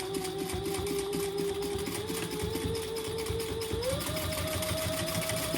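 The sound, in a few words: sewing machine stitching a clutch wallet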